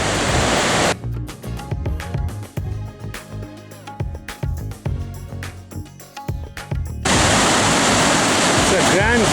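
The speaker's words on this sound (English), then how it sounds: "You can see the Zambezi River" Victoria Falls on the Zambezi River roars as a dense, loud wash of falling water that drops away under a stretch of indistinct talk, then returns at full strength.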